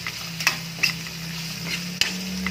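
Tomatoes sautéing in a pan for ginisang mais, a steady low sizzle with a few sharp scraping stirs of a utensil against the pan, close by and with no talking.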